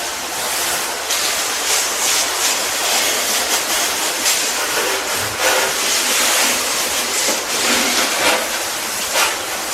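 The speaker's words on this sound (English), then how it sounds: "One more rinse down, and then we can dry them off." A hose sprays a steady, broadband hiss of water across a Honda Fury motorcycle during a rinse, loud and continuous throughout with no pauses or voices.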